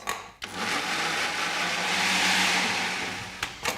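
Blender whirring steadily as it blends mango amras with milk and sugar, a loud continuous motor drone for several seconds, starting and stopping abruptly with brief clicks at each end.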